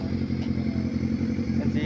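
Motorcycle engines idle and rumble steadily nearby during a Sunday group ride in Lagonoy, Camarines Sur, with people talking over the continuous low drone.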